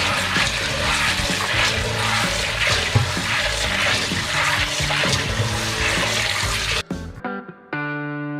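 Beans are washed under warm running water, giving a loud, continuous rushing splash with sloshing. It cuts off abruptly near the end and is followed by a brief tonal musical sound.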